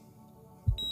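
A single hospital heart-monitor beep from the visual novel game Katawa Shoujo, a short clean electronic tone arriving at the very end after a faint low thump.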